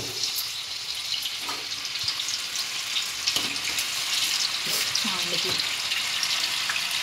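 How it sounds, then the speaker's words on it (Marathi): Banana slices deep frying in hot oil for homemade chips, a steady broadband crackle and hiss running throughout, with a few brief clatters, while faint voices occasionally speak in the background. "ते सगळ्या काचऱ्या आता आपण तळणार आहोत"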